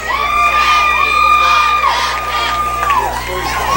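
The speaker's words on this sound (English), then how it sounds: "the crowd here at John Milledge Academy is excited and on their feet" Crowd at a high school football game between Westfield and John Milledge Academy cheering and yelling on their feet, a loud sustained roar with whoops and shouts over a steady tone.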